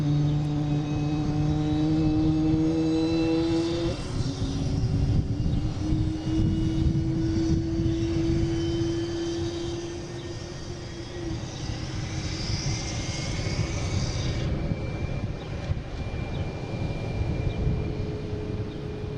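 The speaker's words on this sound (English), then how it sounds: "we got taking off now. Delta heading to Austin, an A220" A Delta Airbus A220 bound for Austin takes off at Boston Logan at night, its engines rising from whining tones into a loud, sustained roar that thins as the jet climbs away.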